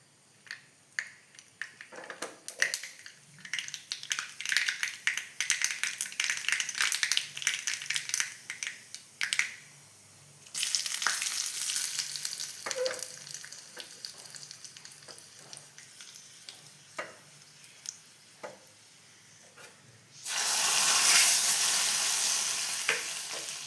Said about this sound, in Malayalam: കറിവേപ്പിലയും ചുവന്ന മുളകും നമുക്ക് വറുത്തിടാം